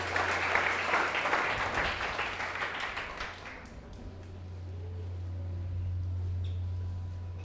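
Congregation in a church gives loud, sustained applause that fills the room, then fades after a few seconds into a steady low hum with faint room noise.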